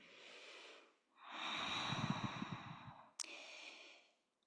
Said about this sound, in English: Listen to the quality of your breathing.